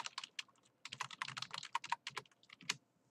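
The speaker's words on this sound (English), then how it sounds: "then I can type in" Rapid, irregular keystrokes on a computer keyboard at a desk, clicking in quick bursts with brief pauses, close and fairly quiet.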